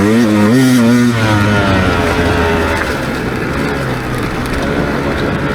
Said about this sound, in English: Oh man, this thing likes to rev.